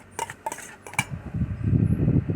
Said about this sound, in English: So we stir very well.